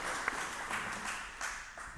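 Brief scattered applause from a small audience at a reef-keeping event, fairly faint and thin, a few claps standing out over a soft wash.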